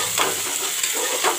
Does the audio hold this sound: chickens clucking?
no